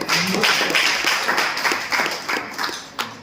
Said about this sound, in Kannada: ವೆರಿ ಗುಡ್, ಚಪ್ಪಾಳೆ.